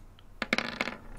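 Dice clattering and clicking across a tabletop during a tabletop roleplaying game, a short burst of sharp rattling taps that tumble and settle within about a second, close and fairly loud against a quiet room.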